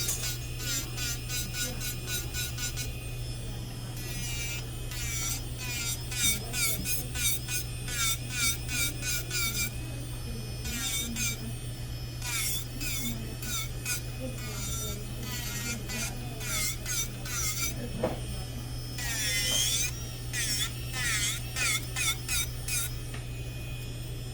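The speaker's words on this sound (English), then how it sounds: "after you use the drill" A high-pitched electric nail drill whines steadily with a constant hum while removing acrylic nails, its grinding pitch rising and dipping in repeated short bursts as it works.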